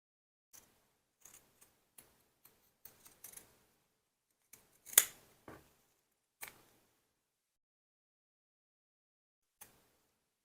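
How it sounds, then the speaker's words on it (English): Sewing scissors trim fabric edges in a quiet room, giving a handful of short, crisp snips spaced irregularly, with one louder cut in the middle and long pauses between. "now I'm going to trim the bottom edges"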